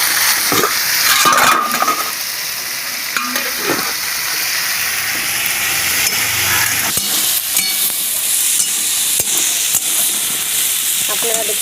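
Ghugni with peas, shrimp and spices frying in a pan gives off a loud, continuous hissing sizzle, with occasional scraping knocks of a spoon stirring through it up close.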